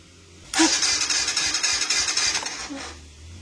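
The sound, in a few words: Kawasaki Rouser NS 125fi motorcycle engine starting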